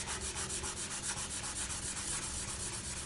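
Steady, close scratchy rubbing of high-grit sandpaper on a polymer clay earring, with quick back-and-forth strokes repeating evenly throughout and no talk.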